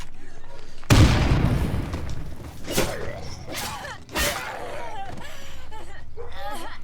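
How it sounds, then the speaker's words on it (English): A grenade explosion in the game State of Decay 2, one loud close boom followed by a rumbling decay and scattered debris, with shouted speech and further impacts after. "Grenade!"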